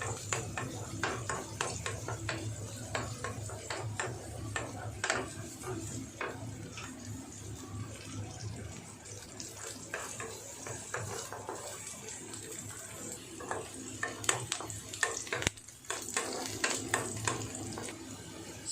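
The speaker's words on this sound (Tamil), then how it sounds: "பச்சை மிளகாய், ஆனியன், கருவேப்பிலை போட்டு கொஞ்சம் பொன்னிறமாக வர மாதிரி வதக்கிக்கலாம் நல்லா" Green chillies, chopped onion and curry leaves sautéing in a pan for idly upma, with a steady sizzle and repeated scraping stirs throughout, close and moderately loud.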